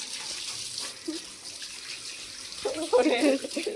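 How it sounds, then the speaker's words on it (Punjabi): Water poured over a dog during a bath after rain, a steady close splash and trickle running throughout that grows heavier near the end, with a person talking over it. "ਉੱਪਰ ਜਿਹੜੇ ਪਾਣੀ ਪਾਉਂਦੇ ਪਾਣੀ ਫਿਰ ਵੀ ਜਾਂਦਾ ਸਾਰਾ ਕੈਂਡੀ"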